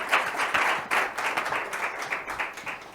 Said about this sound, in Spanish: Y un aplauso para Elsa Punset, la gran referente